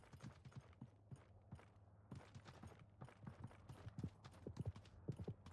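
Horse hooves clip-clop in the battle royale game Realm Royale, a steady run of hoofbeats at moderate distance that grows louder and closer toward the end, with no talk over it.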